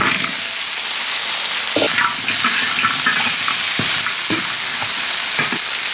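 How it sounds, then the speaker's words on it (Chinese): Pork ribs stir-fried in a wok with doubanjiang bean paste and aromatics give a loud, steady sizzle up close, broken by intermittent scraping clacks of the spatula against the pan. "大料炒香，豆瓣酱炒出红油，把排骨倒进去"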